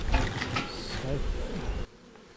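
A close, busy buzzing of honey bees entering a hive box, steady for a couple of seconds before cutting off abruptly.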